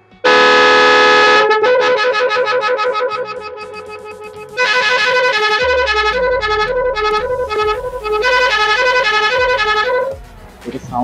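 An aftermarket electric motorcycle horn wired to a switch blares loud, tonal, melodic multi-note blasts close to the microphone, with a brief pause early on before the repeating pattern resumes.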